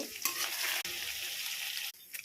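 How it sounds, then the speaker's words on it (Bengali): Prawns sizzle in hot oil in a pan, a steady close frying hiss with a few soft stirring scrapes and brief breaks in the sizzle. "এর মধ্যে আমি এবার চিংড়িগুলো ছেড়ে দিয়েছি, একটু হালকা করে ভেজে নেব"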